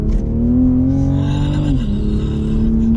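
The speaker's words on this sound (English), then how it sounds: "I love it that you can hear that exhaust through there." A 2020 Toyota GR Supra Gazoo Racing Edition accelerating hard from inside the cabin, its exhaust a loud, steady engine drone that climbs in pitch, dips briefly as it shifts, then keeps pulling.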